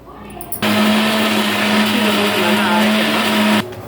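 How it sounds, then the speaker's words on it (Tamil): Mixer grinder running hard on tomatoes with coriander powder, a loud steady whirring motor starting abruptly and cutting off after about three seconds, close and alone. "ஸோ இந்த மாதிரி நல்லா மிக்சியில் இது பண்ணிக்கோங்க."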